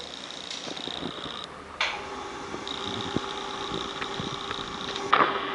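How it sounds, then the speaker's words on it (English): An electric compressor pumps biogas from a polythene bag into an LPG bottle, giving a steady close mechanical hum with a persistent high whine and a few clicks and knocks over it. "After switching this compressor, it will starting to compress this gas in this polythene into this LPG bottle"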